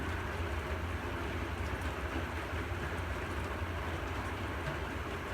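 Heavy rain falling outdoors makes a constant, dense hiss with a low rumble beneath it, steady and unbroken throughout, with no voices.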